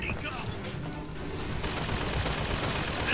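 Rapid gunfire in Bioshock Infinite, a dense burst of machine-gun-like shots close and loud amid combat noise, with a voice talking over the gunfire.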